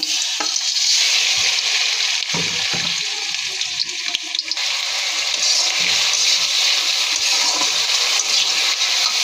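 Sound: onion paste frying in oil

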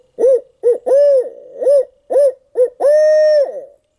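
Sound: person imitating an owl hoot with mouth

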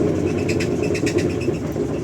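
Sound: car engine knocking

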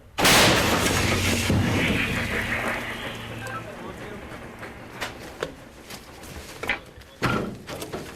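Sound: artillery gun firing

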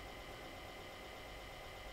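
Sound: car engine running

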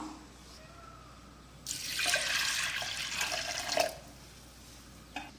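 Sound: water poured into lentils (dal) for cooking

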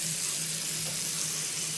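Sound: water running from tap

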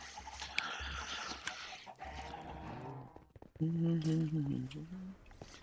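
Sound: chickens clucking in Minecraft SkyFactory video game

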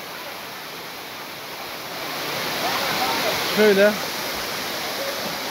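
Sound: Çağlayan waterfall in Erzincan

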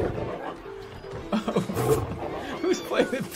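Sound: lion roaring in video game Planet Zoo

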